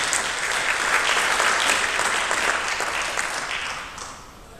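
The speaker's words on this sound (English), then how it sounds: "let's give another big round of applause to Ade Arundel." A graduation ceremony crowd claps in a steady, dense wash of applause that stays loud for several seconds before tapering off toward the end, with no voices over it.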